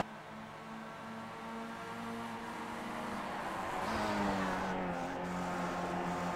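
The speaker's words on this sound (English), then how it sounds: "You can just see and hear visually the cars sliding around these turns after 83 laps" Race cars in the iRacing sim on the Tsukuba circuit, sliding through corners late in an 83-lap race: a steady, fairly loud engine drone that swells and climbs in pitch midway, with no talking.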